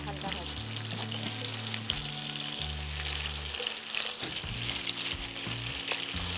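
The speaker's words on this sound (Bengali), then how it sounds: "ঝিঙেটাও কি হালকা ভাজবে?" Sliced ridge gourd lightly frying in hot oil in a pan gives a steady close sizzle and crackle, with low hum and occasional stirring underneath throughout.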